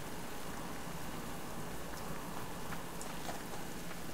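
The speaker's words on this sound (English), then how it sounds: "I really don't like coming out in the rain" Steady rain in the survival game Subsistence, a constant broadband hiss of drops falling on surfaces, even and unbroken, with a few faint scattered taps rising above it.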